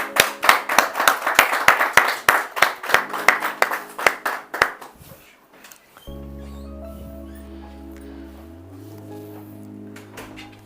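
Audience at a mushaira poetry gathering claps in a dense, rhythmic burst of applause that fades out after about five seconds, followed by a sustained musical drone.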